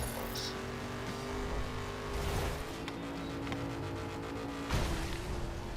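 Car engine in the driving game The Crew, a steady droning motor hum with a revving rise near the end, continuous and fairly loud throughout.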